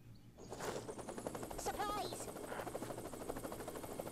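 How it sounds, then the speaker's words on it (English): Helicopter in the Worms W.M.D video game: a loud, rapid rotor chop runs steadily throughout, with a brief burst of gunfire-like rattle near the middle and a faint voice underneath. "Will that helicopter still take off?"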